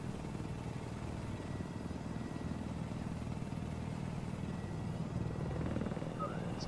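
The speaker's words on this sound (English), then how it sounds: "If we don't take care of this chopper as soon as we see it" Helicopter in Battlefield 4 on PS4, a continuous loud rotor and engine drone with steady low chopping throb, close and constant throughout with no speech.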